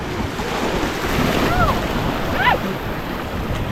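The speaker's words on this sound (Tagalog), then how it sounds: "Lakas ng hampas ng alon." Large ocean waves slap against a small boat on open water near a sanctuary, a steady rough wash of surf and wind noise on the microphone, with a couple of brief high tones rising above it.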